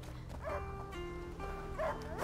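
A dog barks in the video game A Plague Tale: Innocence while tracking a wounded boar through woodland: two faint, short, distant yipping barks over quiet ambient background.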